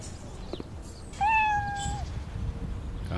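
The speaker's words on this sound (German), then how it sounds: "Katze." A cat in the video game Cafe Owner Simulator gives a single clear, tonal meow lasting under a second, heard alone against a quiet background.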